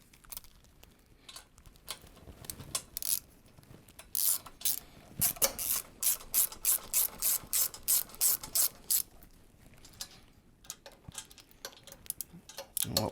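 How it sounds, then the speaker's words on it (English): A ratchet clicks as it tightens the four flange bolts on a twin-turbo Cadillac's exhaust tubes in a garage. The bursts of rapid ratcheting are close and crisp, with short gaps as the tool is reset, and no one speaks. "tighten all 4 of the bolts for our flange"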